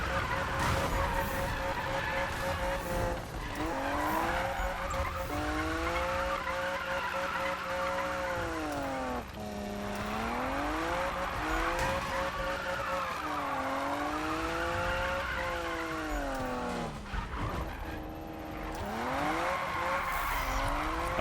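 A car drifts through corners in the Need For Speed (2015) game, its engine droning and revving in wavering pitch while tires squeal loudly and continuously, with a brief dip before the revs climb again.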